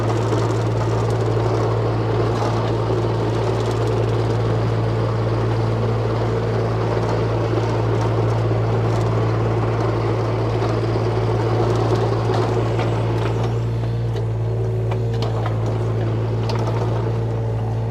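A 2006 Deere 35D compact excavator engine runs steadily for the whole stretch, a loud, continuous low drone with a constant hum and no talk.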